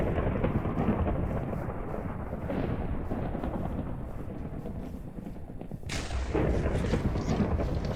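Thunder from a daytime storm in a video game rumbles loudly and continuously, swelling with a sharper crack partway through, set over a rain-like wash with no voices.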